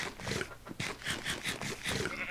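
A sheep in a video game bleats in a series of quick, wavering cries. The bleats are fairly faint and have a rough, noisy texture.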